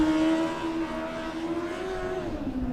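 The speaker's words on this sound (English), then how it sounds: "You can hear the car being in super high RPMs there." A Formula Student race car engine screams at very high revs during a dynamic session, its pitch holding steady then dipping and climbing again, loud and close.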